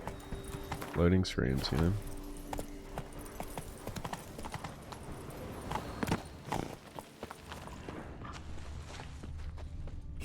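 Roach the horse's hooves clip-clop in a walking rhythm in The Witcher 3, steady and moderately close, with someone talking over the game sound.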